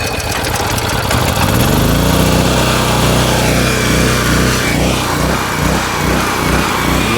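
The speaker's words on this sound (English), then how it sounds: "Look at that, first pull. Got a little bit of surging going on" A Generac GP3300 portable generator kicks into life on the first pull and runs loudly and steadily close by, its engine note surging slightly from a carburetor issue, with no talking.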